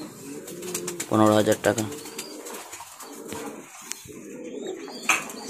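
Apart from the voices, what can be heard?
fancy pigeons cooing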